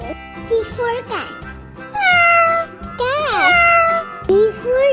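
A cat meows in a cartoonish sound effect, several rising and falling calls in quick succession, loud and close, alongside a voice.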